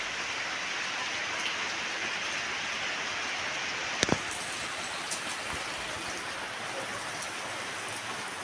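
Steady rain patters down over a farm garden with blooming orchids, a continuous soft hiss of drops on surfaces, broken once by a sharp nearby click midway.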